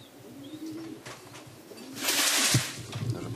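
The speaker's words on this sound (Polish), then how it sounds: "Widzimy kolejnego lądującego gołębia." Racing pigeons arrive at a loft during a club race homecoming in Łochów, Poland, with soft cooing and low bird calls close by, and a brief burst of flapping wings or rustling partway through.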